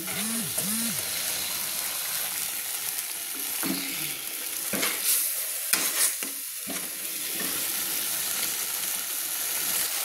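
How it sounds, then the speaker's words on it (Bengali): Masala for bata fish curry is stirred and sautéed in a pan, producing a steady frying sizzle with intermittent scrapes and clatters of the spoon, while a voice speaks briefly near the start. "দিয়ে ভালো করে আমি একটু নেড়ে চেড়ে নিলাম"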